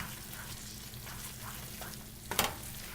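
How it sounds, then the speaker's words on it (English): Grated Parmigiano, Asiago and Gorgonzola stirred into a mushroom and pancetta risotto in a pan, a faint soft simmer and sizzle topped by one quick spoon scrape near the end. "Stir that in there."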